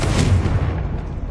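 A Confringo explosive spell cast in Hogwarts Legacy, one heavy booming blast that hits hard and then decays over about a second.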